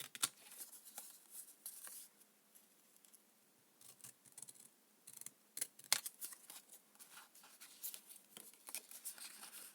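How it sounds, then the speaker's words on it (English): Scissors snip through paper for a craft journal, close and quiet, in a series of short irregular crisp cuts with small rustles of paper between them and no talking. "I'm cutting with my scissors upside down."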